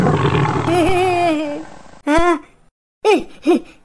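A cartoon tiger gives a long roar, then several shorter roaring bursts separated by brief silences, loud and close, with a voice or gasp mixed in at the start.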